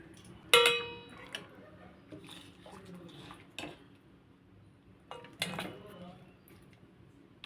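Koi fish curry is served onto a plate, with a bright ceramic clink of dishes and cutlery up front, then softer scrapes and taps, and a second sharp clatter later.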